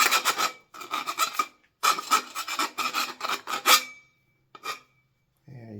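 Rasping file strokes deburr a bicycle top tube in short bursts of rapid back-and-forth scraping, close and crisp, with pauses between and a few brief sounds at the end.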